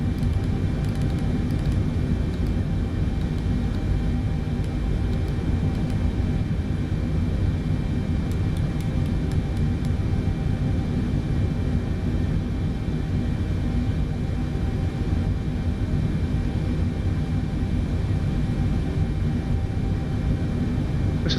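Steady, loud Boeing 747-8 GEnx turbofan engine drone in Microsoft Flight Simulator, a continuous broadband roar with a faint high whine holding unchanged from start to finish, with no voices.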